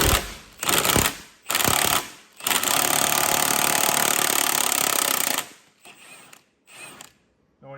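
An impact wrench with a 21mm socket hammers loose a nut on a Mercedes-Benz E320 Airmatic front shock absorber, in short loud rattling bursts followed by one long run and then fainter brief pulses, with no talk.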